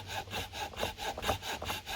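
A small hand saw cuts through wood in quick, even back-and-forth strokes, close and rhythmic, about eight strokes with no talking.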